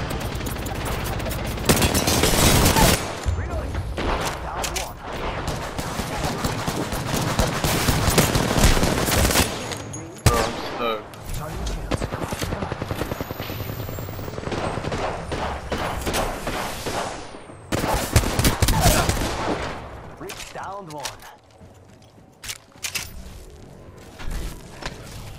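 Apex Legends gunfire on PS4: repeated bursts of automatic weapon fire and single heavy shots, loud and close, with brief pauses between volleys and occasional thuds.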